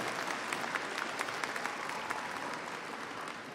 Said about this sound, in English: Can we have a round of applause of appreciation for the staff